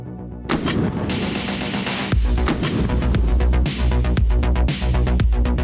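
Loud, close rifle shots from a Springfield Armory M1A SOCOM 16 in .308 fired at an outdoor range, about six or seven sharp reports in an uneven rhythm, each with a booming tail that overlaps the next.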